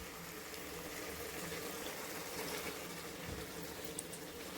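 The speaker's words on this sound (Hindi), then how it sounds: "अब हम डालेंगे इसके अंदर अपनी दही वाली चाप जो हमने भिगो के रखी है दही में" Yogurt-marinated soya chaap cooking in hot oil in a pan, giving a steady, faint, hissing sizzle that runs evenly throughout without a break.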